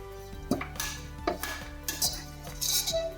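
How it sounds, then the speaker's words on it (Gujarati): While grated coconut is lightly sautéed in ghee in a pan, a spoon repeatedly clinks and scrapes against the pan in a quiet, irregular rhythm. "આપણે આ કોપરાના છીણને હલકું એવું સાતળવાનું છે."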